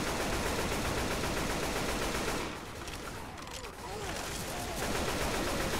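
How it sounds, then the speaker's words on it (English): Sustained machine gun fire from the co-op zombie shooter Left 4 Dead 2, dense rapid bursts filling the first half and final second, dipping briefly in the middle, with faint game sounds between. "So many bullets."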